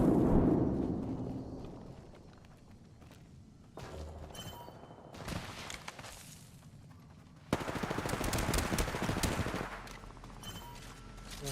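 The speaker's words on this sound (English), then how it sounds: "Scare him off with some warning shots." Warning shots from a gun in the Apex Legends video game crack out in bursts of automatic fire, mixed with heavy thuds and shifting in loudness from moment to moment.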